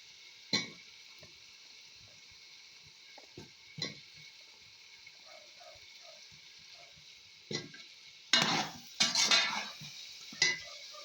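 Carrots and potatoes go into a pot over a faint steady sizzle, with scattered metal clanks and scrapes of a spoon stirring, growing busier and louder toward the end, with no speech.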